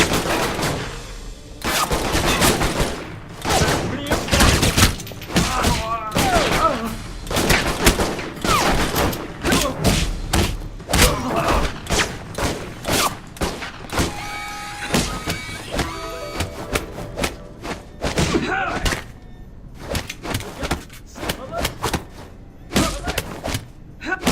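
Gunfire in the video game Alpha Protocol, a dense firefight of rapid sharp shots and bursts with thuds, loud and close, mixed with shouting voices.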